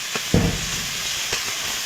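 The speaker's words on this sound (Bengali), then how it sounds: "এবার দিয়ে দেবো শুকনো লঙ্কা আর আদা বাটা দিয়ে দেবো" Dried red chillies and ginger paste hit hot oil in a pan with onions, giving a steady close hiss and sizzle, with a brief louder burst near the start.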